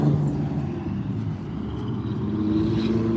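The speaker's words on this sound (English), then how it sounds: "There's a loud truck in front of me right now." Loud truck idling at a street corner, a continuous low rumbling drone close in front with faint traffic around it.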